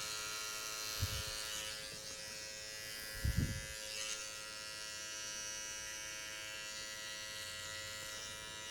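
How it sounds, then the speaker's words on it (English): Sharp electric hair clippers trim hair during a low fade haircut, a steady close electric buzz running throughout with two brief thumps as the clipper moves against the head. "It's a sharp clipper."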